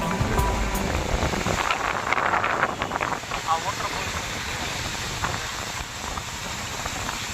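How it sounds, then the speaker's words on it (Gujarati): A waterfall on a Darjeeling trip roars as a constant broadband rush of falling water, close and loud throughout, with a person talking over it. "તો હવે તમને બતાવી છે વોટરફોલ્સ."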